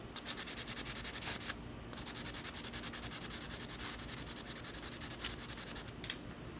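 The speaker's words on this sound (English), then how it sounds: "I discovered that this coarse sandpaper could create sparks on a ferro rod" Coarse sandpaper scraped against a ferro rod to throw sparks, a rapid run of close raspy strokes in steady rhythm, with two brief pauses.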